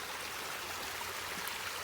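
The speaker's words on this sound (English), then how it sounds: "Little tiny little waterfall here." Steady rushing water splashes and trickles continuously from a tiny waterfall beside a hiking trail, like a small stream spilling over rocks, with no voices.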